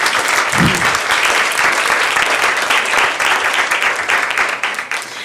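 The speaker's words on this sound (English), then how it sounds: "round of applause for that" Sustained applause from a sizable crowd, steady and loud throughout before tapering slightly at the end.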